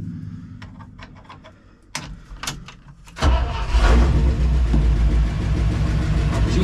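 A 1974 International 200 truck engine clicks and cranks a few times, then fires and catches, settling into a loud, rumbling idle close by.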